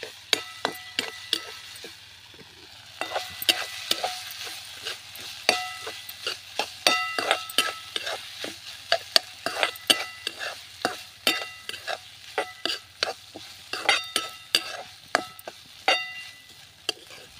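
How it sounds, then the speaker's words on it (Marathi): Crushed green chilies sizzle in hot oil, with a quiet bed of frying hiss under a rapid, uneven series of sharp clicks and scrapes as a spatula stirs against the pan, close up and without talk. "आता ही मिरची आपण परतून घेऊया"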